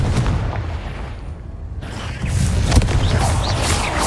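A Confringo explosive spell blast in a Hogwarts video game, a rumbling burst that swells into a loud, sustained booming roar with crackling debris and mechanical rattling, no talking.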